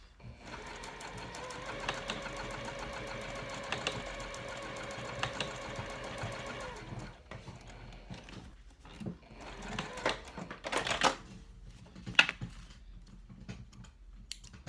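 A sewing machine backstitches over layers of cork on a trifold wallet, humming steadily at first and then breaking into uneven stops and starts with sharp clicks.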